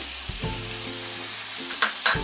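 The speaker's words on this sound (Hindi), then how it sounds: "इसे हम लगातार चलाते हुए 1 मिनट तक भून लेंगे।" Dill and fenugreek leaves sautéing in a pan make a steady, even sizzle up close, broken by a few soft stirring scrapes and taps, with no speech.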